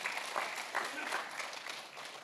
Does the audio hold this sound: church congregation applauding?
yes